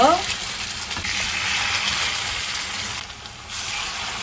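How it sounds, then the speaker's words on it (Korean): Chickpea pancake batter ladled into a generous pool of oil in a hot pan fries with a steady, close sizzle that eases briefly near the end. "그럼 중불로 달궈진 프라이팬에 자, 이제 이렇게 한 국자를 넣어주세요"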